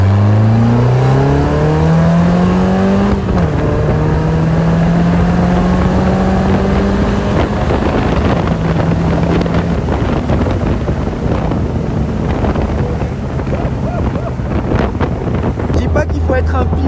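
A Caterham sports car engine accelerates hard on a race track, its loud, close drone climbing in pitch through the gears with a clear drop at a shift. Heavy wind buffets the microphone throughout.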